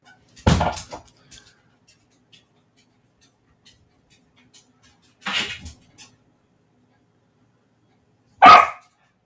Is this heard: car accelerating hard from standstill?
no